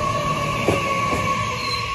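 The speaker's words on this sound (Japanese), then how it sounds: "タンガタンガタンっていう音がいいです ね" A train rolls along rails with a continuous loud rumble and a steady metallic whine, a couple of faint wheel-joint clatters breaking through, heard close and without voices.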